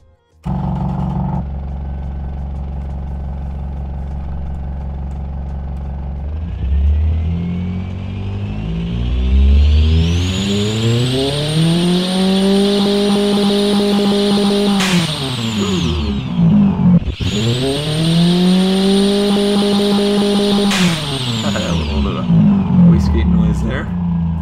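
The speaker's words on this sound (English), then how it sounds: "Very attractive sounding engine, I must say." A race car engine with racing intake and no catalytic converter idles low, then revs sharply to a high sustained whine, drops briefly, and revs again, loud and close, no talking, in the game Automation.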